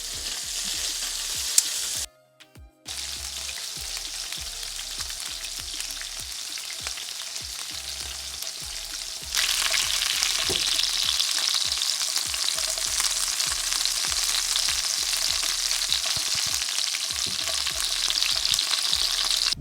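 Sausages sizzle and fry in a pan, a steady dense crackle that continues throughout after a brief break and grows louder and fuller partway through, with no talk.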